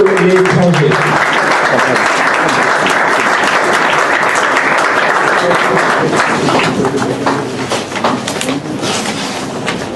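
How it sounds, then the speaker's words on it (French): An audience at a public ceremony applauds together in a loud, sustained wash of clapping that carries on for several seconds before thinning and fading toward the end. "nous allons nous inviter à applaudir ensemble de la part de nos frères congolais de l'étranger."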